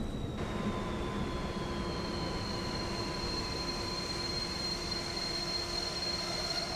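BR155 locomotive hauling coaches in Train Simulator 2016 on the Cologne–Koblenz line, a steady rolling rumble with long squealing wheel tones and a faint high whine, continuous and fairly close.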